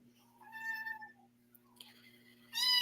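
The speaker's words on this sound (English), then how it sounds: "she's okay if she meows" A house cat gives a drawn-out meow, then a brief pause and a louder, rising second meow, close by over a steady electrical hum.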